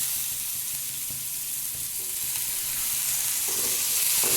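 Chopped tomatoes hit a pan of softened onions and start to sauté, a bright, dense, continuous sizzle that swells slightly toward the end, heard close up with no talking.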